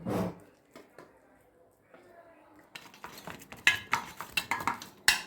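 Chocolate barfi mixture being stirred and pressed in a pan or greased mould, quiet scraping early, then a run of sharp metallic spoon clinks and taps against the vessel, with faint talk underneath.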